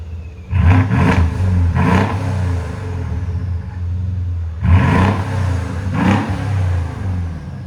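A 2013 Mercedes S 550 with a 5.5L V8 and a muffler delete revs twice, each burst rising with a rushing, throaty roar and turbo spool before dropping back to a deep idle rumble, loud and close.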